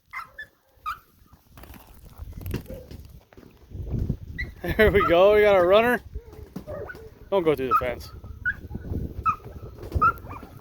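Puppies at live bird training whimper and yip in bursts, with high wavering cries close by, mixed with someone talking and some bird sounds outdoors.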